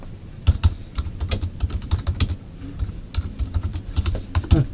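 Someone types steadily on a computer keyboard at close range, tapping quick irregular keystrokes with no talk over it.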